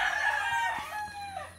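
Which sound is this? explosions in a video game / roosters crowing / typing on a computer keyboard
roosters crowing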